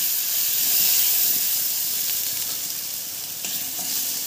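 Mustard seeds with coarsely ground chili, coriander and fennel fry in hot oil in a kadhai, giving a steady close sizzle and hiss with faint crackles throughout.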